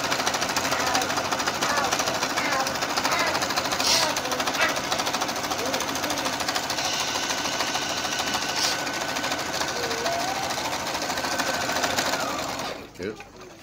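An Electrolux 990S electronic sewing machine running a zigzag stitch, a fast steady mechanical whir and needle chatter close up for about twelve seconds before stopping, with brief talk over it.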